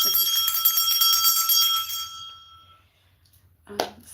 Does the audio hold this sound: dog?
no